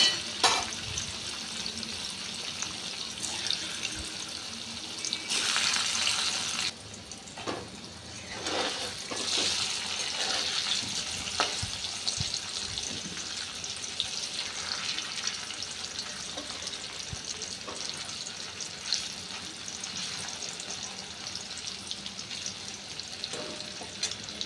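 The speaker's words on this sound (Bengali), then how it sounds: "পনিরগুলো একটু ভালো করে ভেজে নেব" Paneer pieces fry in hot oil with turmeric and salt, a steady crackling sizzle with occasional louder bursts of spatter and stirring, no talking.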